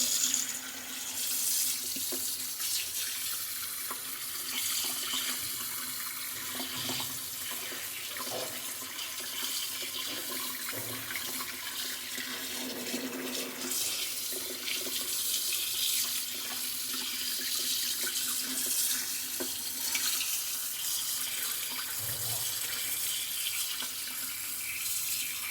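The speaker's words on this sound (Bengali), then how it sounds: "আমি মাছগুলোকে ভালো করে ধুয়ে নিচ্ছি।" Pieces of fish washed under a running kitchen tap, with a steady close hiss of water splashing into a sink for the whole stretch and occasional clinks, no voices.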